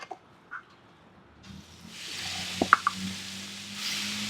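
Seasoned meat for a Philly cheesesteak drops into a hot pan with a few soft knocks and plops, then a steady hiss of sizzling swells up and holds close by.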